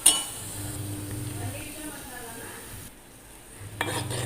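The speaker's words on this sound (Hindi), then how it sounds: "अब हम इसमें डालेंगे टमाटो प्यूरी।" Tomato puree goes into ginger garlic paste that is frying in a pan for an egg curry gravy. A sharp clink opens a soft sizzle with scraping. The sound drops briefly, then the frying and stirring pick up again.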